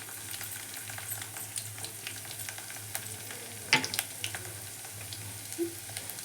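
Garlic, curry leaves and green chillies fry in hot oil, giving a steady soft sizzle with a few brief clinks and stirring scrapes. It is the tempering for a okra (bendakaya) fry.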